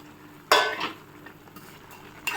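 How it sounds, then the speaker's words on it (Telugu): Vermicelli drops into boiling water and is stirred with a spoon in a pot, giving a sudden loud hiss and rustle, then quieter bubbling, with a second short swish near the end. "నీళ్ళు మరిగాయి కదా ఫ్రెండ్స్ ఇప్పుడు సేమియా వేస్తున్నాను"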